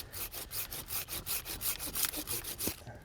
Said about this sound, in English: I'm going to make a little cut on the bottom because I don't want to strip out this tree